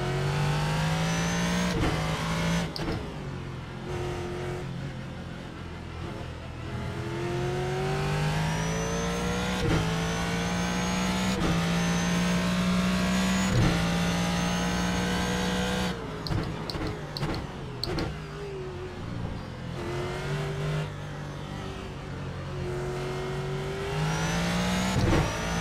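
A Ford GT race car in the iRacing sim runs at Zandvoort in a Blancpain Sprint Series race, its engine droning loud and close, rising through the gears with sharp shift breaks and repeated climbs in pitch.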